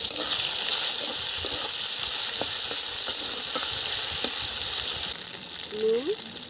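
Cumin seeds, chopped tomato and ginger fry in hot oil for khichuri, giving a steady close sizzle with occasional soft clicks of stirring throughout.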